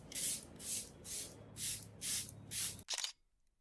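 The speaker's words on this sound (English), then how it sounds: "Charlotte Tilbury's setting spray." Charlotte Tilbury setting spray misted in six quick, evenly spaced hissing bursts, followed by a short double puff, then quiet; close and fairly soft.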